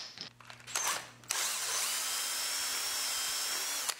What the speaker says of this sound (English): I cut out the hole for it, starting with smaller bits and progressing to larger sizes